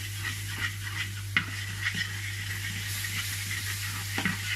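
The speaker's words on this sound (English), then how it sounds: "add a tiny bit of water. This helps deglaze the pan" Water added to a hot pan of sticky hoisin pork to deglaze it, a continuous sizzle under a steady hum with a few sharp utensil scrapes and knocks while stirring, no voices.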